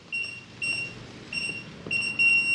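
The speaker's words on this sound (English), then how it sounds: "flashes green, flashes red, and it beeps at you like multiple times" A Kwikset 914 smart deadbolt lock beeps after rejecting a code, giving a handful of short high electronic beeps in an irregular sequence, close by and moderately quiet.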